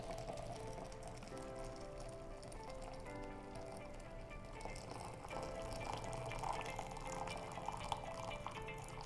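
Water pours in a fast, steady stream from a Mueller Ultra Electric Kettle, making a continuous gurgling, filling splash that stays fairly faint throughout with no talking.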